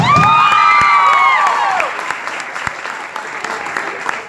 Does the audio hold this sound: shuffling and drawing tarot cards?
no